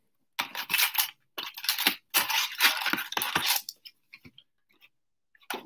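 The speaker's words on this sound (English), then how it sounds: "I'm going to try to do a little shuffling now." Crisp, riffling snaps of Upper Deck trading cards being shuffled come in several quick bursts, then a few faint clicks and taps.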